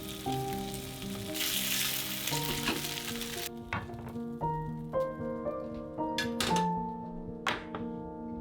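Meat for a low-carb bento searing in a pan, with a dense sizzle that cuts off after a few seconds, followed by scattered taps and clinks under light background music.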